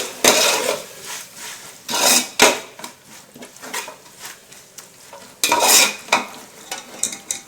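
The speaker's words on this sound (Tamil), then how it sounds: "சேர்த்து இப்போ ஒரு கிளறி விட்டுடுங்க." Ginger-garlic masala with salt stirred in a pan for coconut milk rice, loud rhythmic scraping bursts of a spoon against metal over a faint sizzle, close by.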